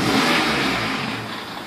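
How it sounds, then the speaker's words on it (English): A car engine revs during a primary ignition waveform test, a steady mid-pitched whirring drone that holds strong and then eases off slightly, with no talking. "So, if you could rev the engine"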